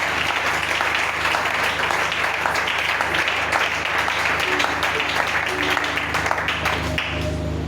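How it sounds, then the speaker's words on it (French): A church congregation claps in a loud, continuous mass of applause with a sustained organ or keyboard tone beneath, easing off slightly at the very end. "Est-ce qu'on peut offrir des applaudissements pour notre Dieu?"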